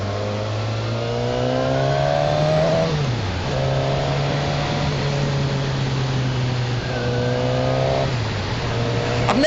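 A Suzuki Katana motorcycle engine runs steadily while being ridden, its loud harmonic drone holding pitch with two brief dips as the throttle eases off and picks up again, with no talk over it.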